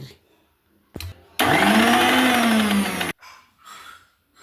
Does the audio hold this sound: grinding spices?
yes